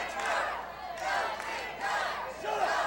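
Wrestling fans in an arena shout and cheer in rising waves for Tim Ashley, a rowdy crowd roar that swells several times while a commentator talks over it.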